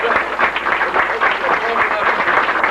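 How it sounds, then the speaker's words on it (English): Audience applause at the New Arts Six 2021 arts gala, a dense, even patter of many hands clapping close by, with a voice speaking over it. "Let's give them a round of applause."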